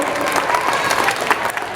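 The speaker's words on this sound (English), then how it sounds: "Let's give them one more round of applause." Crowd applause at an outdoor kids' hog hunting charity event, a brief burst of many hands clapping close and loud, with some voices in the mix.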